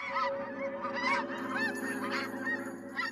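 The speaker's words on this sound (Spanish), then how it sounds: "las aves migran" Flock of migrating geese honking steadily, many overlapping calls layered over a constant low drone in the background.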